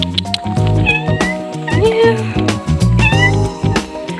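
Several cat meows rise and fall over background music, with a couple of drawn-out mewing calls standing out near the start and end.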